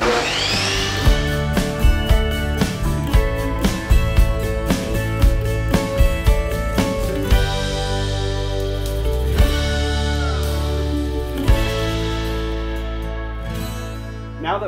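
A power saw cuts 1.5-inch wood boards for a compost sieve, giving a sustained motor drone broken by repeated sharp knocks and bursts as boards feed through, close and loud, with no talking.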